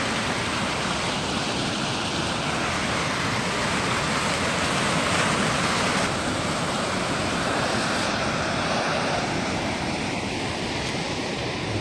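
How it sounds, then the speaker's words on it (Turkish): The Sarımsaklı stream in flood rushes downhill in a strong windstorm, a loud, steady, close roar of churning water that never lets up, with no voices. "Sarımsaklı suyu sel çizerek aşağı doğru gidiyor."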